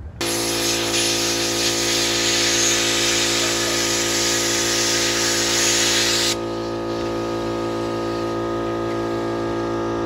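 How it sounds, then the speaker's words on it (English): Air compressor nozzle blowing a steady, loud hiss of air to slide a grip onto a minibike handlebar, continuous for the whole stretch and easing slightly in tone near the end. "I'm going to use my air compressor to kind of help it on there"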